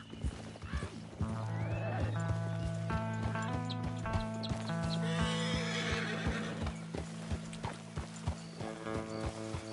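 Horses in the video game Red Dead Redemption 2 whinny repeatedly over a rapid clip-clop of many hooves, with faint voices under the galloping and neighing.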